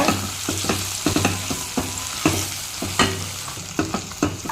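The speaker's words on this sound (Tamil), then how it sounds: "மசாலா சேர்த்துட்டு நல்லா அந்த கத்திரிக்காயை பரட்டி விடுங்க." Brinjal being stir-fried with chilli masala in a pan, a steady sizzle broken by repeated scraping and stirring strokes at an uneven rhythm, close up with no voices.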